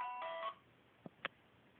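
A phone ringtone for October, set to a short bright electronic melody with stacked tones, then stopping into near silence broken by two brief soft clicks.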